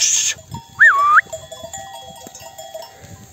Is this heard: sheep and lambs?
yes